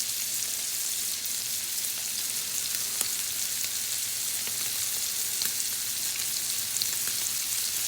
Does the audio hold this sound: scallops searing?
yes